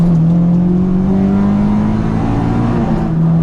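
Honda Del Sol fitted with an Integra Type-R VTEC engine accelerating hard from a standing start through first and second gear, a loud rising engine whine climbing in pitch, with a brief dip at the gear change before it climbs again.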